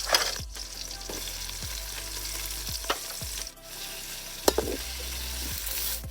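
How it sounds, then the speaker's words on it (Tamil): Chopped onions fry in hot oil with mustard seeds and green chili as a spatula stirs them, giving a steady close sizzle broken by scraping strokes against the pan while a Tamil snail curry is prepared. "வெங்காயம் நல்லா வதங்கணும்."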